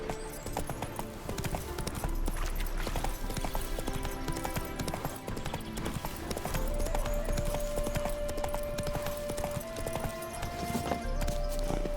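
The horse Roach gallops in The Witcher video game, with rapid, continuous hoofbeats throughout, layered with game music and occasional faint voice sounds.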